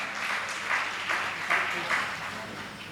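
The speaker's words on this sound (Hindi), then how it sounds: "तालियों का उद्घोष" Audience clapping at a Jain religious gathering on Sharad Purnima, honoring a 51,000 rupee donation; a steady, moderately loud patter with a few stronger swells, and voices murmuring underneath.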